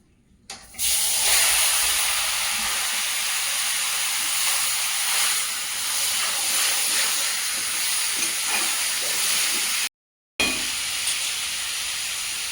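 Marinated Bombay duck fish hits hot oil in a wok with a loud, steady hiss and sizzle that holds almost throughout, with a brief cut near the end.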